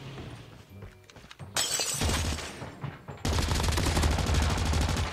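Loud bursts of rapid gunfire from Call of Duty Mobile with a sharp shattering crash, sustained automatic shooting that grows denser and fills the final seconds.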